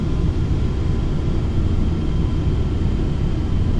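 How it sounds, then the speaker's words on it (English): Inside a small airplane flying slowly, the engine holds a loud, even low-pitched hum and rumble throughout, unbroken and close, with no voices. "Just going to slow the plane a little bit."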